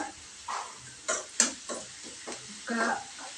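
Garlic fries in a pan while a spoon stirs it, giving a faint sizzle under a series of scraping clanks at irregular intervals, heard up close.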